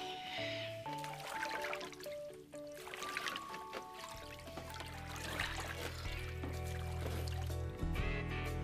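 Water sloshes and trickles in a tank holding a wave power model made from a styrofoam box, a soft watery churning under bright background music.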